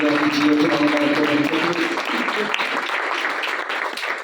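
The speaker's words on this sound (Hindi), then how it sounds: "जोरदार ताली के साथ चलाने के लिए" Loud congregational clapping at a Hindi-language church service, dense and sustained over a few seconds, with a sung or spoken tone at the start.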